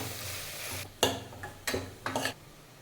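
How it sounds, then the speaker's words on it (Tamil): Onions being stirred and sautéed to golden brown in a pan for chicken biryani, with three short bursts of scraping and sizzling over a quiet background, no talking. "வெங்காயத்தை நல்லா பொன்னிறமாக இந்த மாதிரி வதக்கிக்கோங்க"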